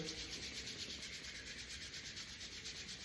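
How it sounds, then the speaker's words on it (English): Two palms rubbing briskly together, a steady dry swishing friction that continues evenly without pause, close and fairly quiet. "I like to start every practice just rubbing the palms and invigorating the nervous system"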